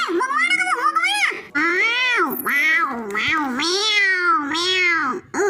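A cartoon cat chasing a mouse meows and yowls in a long, continuous run of loud, close, pitch-sliding cries, apparently a human voice imitating the cat.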